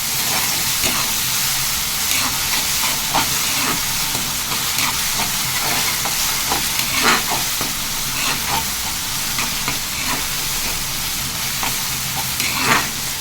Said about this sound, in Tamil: இஞ்சி பூண்டு பேஸ்ட்டு அந்த பச்சை ஸ்மெல் போகிற வரைக்கும் நல்லா வதக்கிக்கலாம்